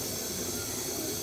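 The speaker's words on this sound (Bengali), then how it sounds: "পাস্তার জন্য চিকেনটা ভালো করে একটু তেলে ভেজে নেব।" Chicken pieces frying in oil for a pasta with capsicum, chilli and onion, a steady bright sizzling hiss that holds level without pause.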